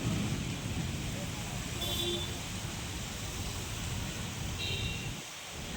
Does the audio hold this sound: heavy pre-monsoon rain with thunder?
yes